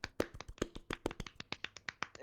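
A handful of people clap in quick, uneven rhythm for a couple of seconds, close by and moderately loud, with a brief voice near the end.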